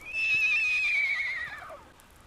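A person's voice imitates a horse whinny: one loud, strained neigh that starts high and slides downward over about two seconds, with nothing else around it.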